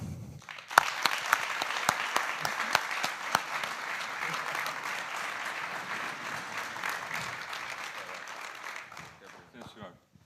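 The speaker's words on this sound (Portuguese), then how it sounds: "Por favor, uma salva de palmas para a Raí." A studio audience applauds steadily for a guest, Raí, at a talk event about football, the clapping dense and sustained for about ten seconds before tapering off.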